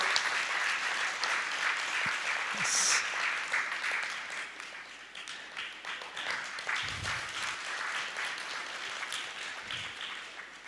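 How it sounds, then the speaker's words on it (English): Audience applause at a leadership conference gift presentation, a steady wash of clapping that stays moderately loud for about ten seconds, with a brief vocal sound early on. "let us applaud this moment"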